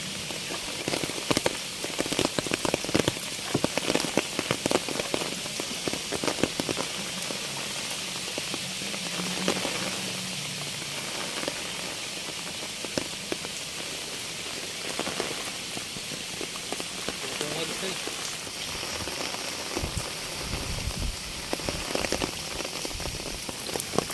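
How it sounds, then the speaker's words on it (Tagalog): Steady, dense hiss of heavy rain pouring onto a river, continuous throughout with scattered louder drops and splashes. "Dahil sa lakas ng ulan."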